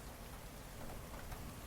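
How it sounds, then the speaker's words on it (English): Steady rain falls outside a lighthouse, a dense, even hiss that fills the short stretch with no distinct thunder rumble standing out, just constant wet patter at a low, even level. "the sounds of rain and now receding thunder outside"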